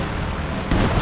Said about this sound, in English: And there goes ISU-152 fires, and he doesn't hit that much.